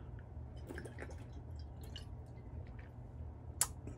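Water trickles and drips from a glass bottle of Mountain Valley Spring Water from Arkansas, quiet and close, with scattered splashes and one sharper clink near the end.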